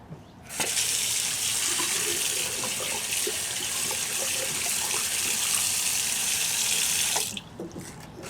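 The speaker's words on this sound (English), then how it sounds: "Let's give the faucet a test out." Water from an outdoor patio sink faucet gushes steadily for several seconds, a loud, even hiss that starts abruptly and stops just as suddenly, with no talking.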